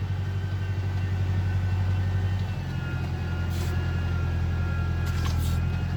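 A 5450 tractor digging a canal runs with a steady, close low engine drone and a strong humming tone, dipping slightly partway through before settling back into an even, continuous rumble.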